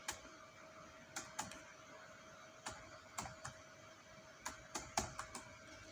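A phone number is typed on a computer keyboard while setting up Facebook two-factor authentication: a dozen or so crisp, close key clicks in small irregular clusters over a steady faint electronic hum.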